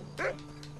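A dog in the video game Red Dead Redemption gives a single short, close yip-like bark over a low steady hum.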